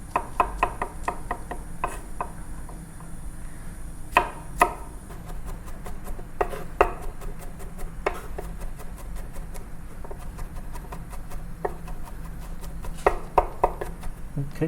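Knife chopping grilled octopus into small pieces on a board, steady sharp taps at an irregular pace with a few louder strikes, close and clear, with occasional faint talk.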